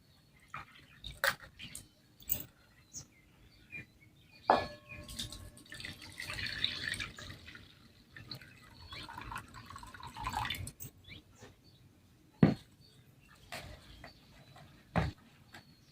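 Split lentils being rinsed in water in a home kitchen produce scattered drips, splashes and soft sloshing, with sharp isolated water clicks between quieter swishing, close and fairly faint.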